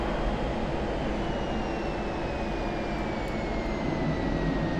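A simulated F-16 fighter jet engine roars steadily and loudly in DCS as the aircraft pulls a high-G turn at low altitude and high speed, with a slowly falling whine running through the continuous rumble and no talk.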